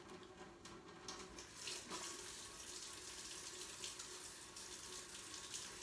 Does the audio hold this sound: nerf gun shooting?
no